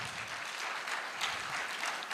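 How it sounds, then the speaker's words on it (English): Audience applause at a corporate event honoring an Infosys speaker, a continuous patter of many hands clapping at moderate distance, steady throughout. "Round of applause for Ms. Kavita Kulkarni"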